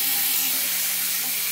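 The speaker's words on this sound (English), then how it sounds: "Just start the water." Water runs steadily from a sink tap while an LPS toy sits in the sink for cleaning, a continuous close hiss and splash with no talking.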